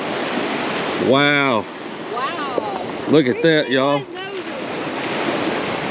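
Ocean surf breaking on a beach during pompano fishing, a steady windy wash of waves running throughout while people talk and exclaim over it.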